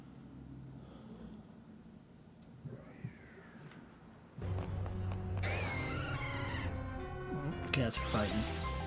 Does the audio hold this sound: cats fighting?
yes